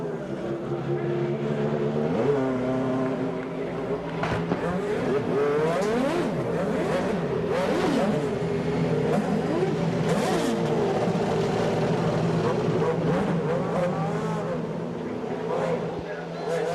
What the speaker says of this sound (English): Teams awaiting the firing of the 18 motors here today.